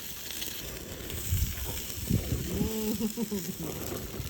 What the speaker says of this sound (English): then you sear them at the end for about 30 to 50 seconds